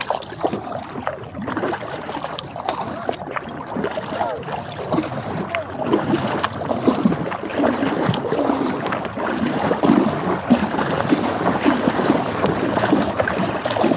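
Motorboat out on fishing water running steadily at speed, a continuous loud engine drone and hull-on-water rush with wind buffeting the microphone throughout.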